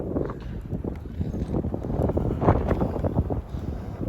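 Strong gusts batter the microphone outdoors, a dense continuous low roar that swells and dips without pause, close and loud, with no voices.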